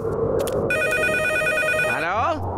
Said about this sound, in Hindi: कौन है जो रविवार की सुबह फोन कर रहा है?